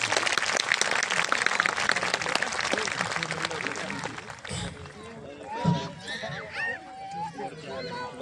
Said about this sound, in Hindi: आप एक बार तालियां बजाएं बताइए।